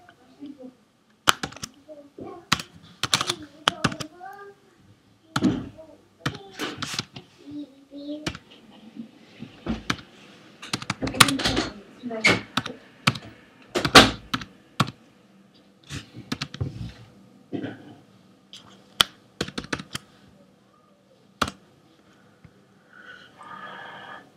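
Someone types a message on a computer keyboard in a quiet room: irregular bursts of crisp key clicks come in quick clusters with short pauses between them.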